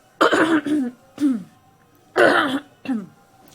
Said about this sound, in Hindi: सॉरी, इस खांसी पे थोड़ा ध्यान मत दीजिएगा आप लोग